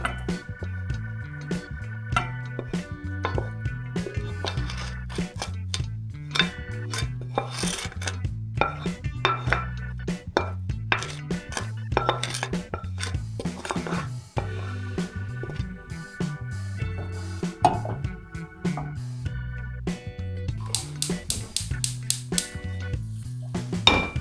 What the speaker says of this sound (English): So I've exchanged the pans